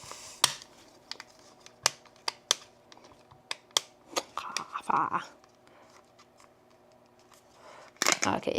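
Small snips and sharp clicks from trimming a Dualtenna antenna on a WiFi Pineapple Pager, scattered irregular taps close by, with a brief rustle of handling and low talk.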